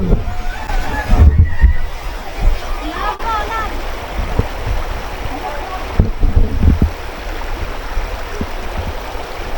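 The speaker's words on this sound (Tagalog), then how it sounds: "Alon!" Water waves and a flowing stream in the mountains rush and splash up close, with loud bursts of sloshing and people talking and shouting over the water.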